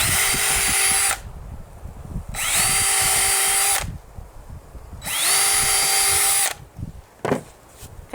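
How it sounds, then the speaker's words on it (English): A power drill whines in three separate bursts, each about a second long, drilling pilot holes into wood, with brief quiet pauses and a small knock between. "I'm going to drill some pilot holes"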